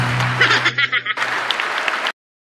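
Applause from the audience at the Philippine State of the Nation Address, a steady clatter of clapping lasting about two seconds with a brief dip in the middle before stopping abruptly.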